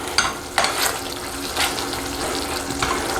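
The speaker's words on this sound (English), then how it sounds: "It's quite noisy cooking in this pan actually." Green curry with coconut milk cooks noisily in a pan, giving a steady broadband sizzle and bubbling with a few louder clatters, close by and with no voices.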